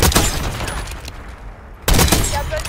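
A sniper rifle fires in Black Ops 6 with a loud, sharp crack, and a second heavy blast follows a moment later. The two shots are separated by a brief quiet gap.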